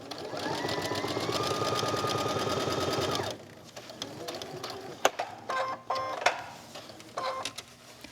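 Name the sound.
sewing machine stitching around a pillow square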